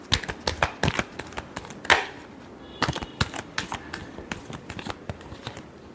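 Tarot cards shuffled by hand close up, a quick run of crisp riffling snaps and flicks with a brief pause midway before the shuffling resumes.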